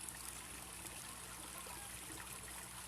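Aquaponics water and air frothing through a 25 mil reducer, a steady close hissing gush of churning, bubbling water with no pauses.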